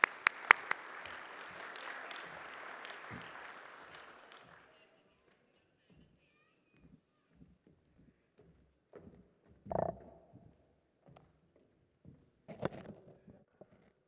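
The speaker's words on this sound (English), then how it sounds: "Let's give him a round of applause as he comes." Audience applause for a speaker at the opening ceremony of a Caribbean investment forum, a full burst of clapping lasting about four seconds and then fading to near silence, with scattered small bumps and knocks afterward.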